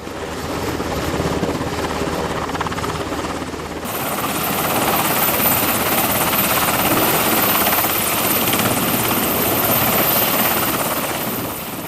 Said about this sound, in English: MH-60R Seahawk helicopter.